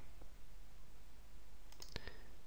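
A single computer mouse click on a solve button in spreadsheet software, a faint sharp tick near the end over a steady low hiss of room noise.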